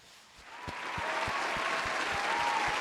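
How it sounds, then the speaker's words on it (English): A speaker claps steadily for a football performance, sharp individual claps landing in a quick, even rhythm over a low wash of background noise, close and moderately loud. "I'm going to give you an applause for that performance"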